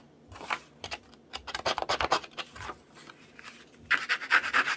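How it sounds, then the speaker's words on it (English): Scissor blades scraping and roughing up the edges of paper for a vintage scrapbook collage, close-up bursts of quick rasping strokes coming in irregular clusters. "So I'm just gonna take my scissors here"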